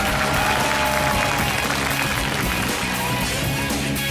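A studio audience at a televised talent-show contest applauds as a contestant is welcomed to the stage, sustained and dense clapping at an even level from start to finish.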